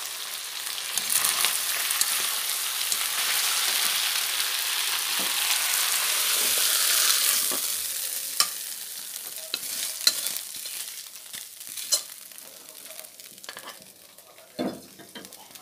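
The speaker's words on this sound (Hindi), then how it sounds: "अभी फिश हेड फ्राई हो गया है" Fish head frying in oil in a kadhai: a steady, loud broadband sizzle for about seven seconds, then a softer crackle with scattered clinks and stirring scrapes, with no talking.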